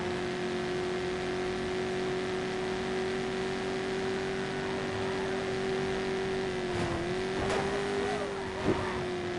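A video-game car engine holds a steady, droning whine at constant pitch, with a few short bumps and clicks near the end, no talking over it.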